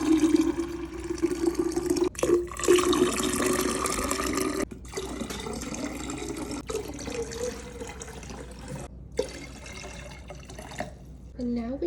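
Filtered water pours steadily into a chia seed mixture, a continuous liquid splash and trickle with a few brief pauses and a fading stream toward the end.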